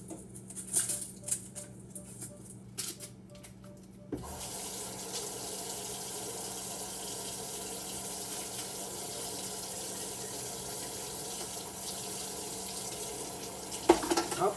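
Kitchen tap water running into a sink while an onion is rinsed, a steady hissing gush that starts after a few seconds of quieter handling noise and runs continuously.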